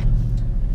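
A barn-find Lexus engine cranks and fires to a low idle with a slight exhaust blow, a loud, close rumble holding steady for under a second with no talk.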